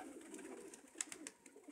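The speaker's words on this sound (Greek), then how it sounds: "Λέω να τα πετάξουμε τα περιστέρια" Domestic pigeons coo softly among the flock, low and somewhat distant, mixed with faint rustling and outdoor background noise.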